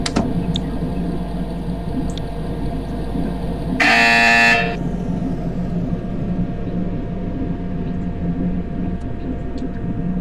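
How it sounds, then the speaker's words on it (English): A dryer buzzer in a Roblox obby video game sounds once, a loud harsh electronic buzz lasting under a second and cutting off sharply above the steady hum of game background noise. "Stupid dryer buzzers."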